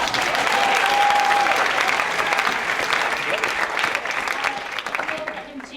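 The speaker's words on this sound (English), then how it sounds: "Give her a round of applause." Dense audience applause at a live storytelling show, strong and continuous at first, then gradually thinning and becoming more scattered toward the end, with faint crowd voices underneath.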